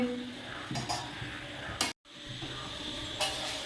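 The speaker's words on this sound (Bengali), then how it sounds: "দেখো তাল ছিটকে চারিদিকে কি অবস্থা" Palm fruit pulp bubbles and spatters as it cooks in a pot, a steady sizzling hiss with a few sharp pops and splats, broken by a brief moment of silence.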